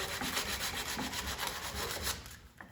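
Hand sanding wood with 120 grit sandpaper on a wine bottle holder, heard as close, rhythmic rubbing strokes about every half second with no talk.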